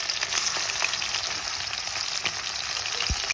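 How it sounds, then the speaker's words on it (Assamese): Chicken dry-frying in a kadai, a dense continuous sizzle heard up close with a few light stirring knocks. "মই এনেকৈ ড্ৰাই ফ্ৰাই কৰি লৈছোঁ কেৰাহীত"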